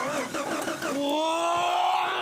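A Jeep Grand Cherokee engine, with hot-wired ignition at a wooded off-road spot, cranks with several short churning bursts, then catches and rises into a steady, climbing rev. The sound is moderately close, with no voices.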